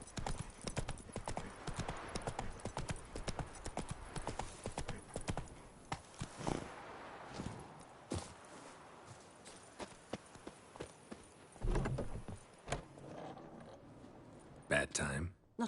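The horse Roach gallops in The Witcher 3, a steady, rapid clip-clop of hooves mixed with rustling tack and other game noise, continuing throughout.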